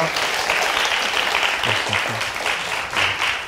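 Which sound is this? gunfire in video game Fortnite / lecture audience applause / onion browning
lecture audience applause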